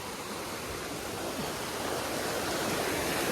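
A hidden waterfall near Kanyakumari pours in a steady, loud, broadband roar of falling water that holds evenly throughout, close by and with no voices.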